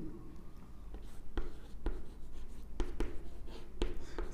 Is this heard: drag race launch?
no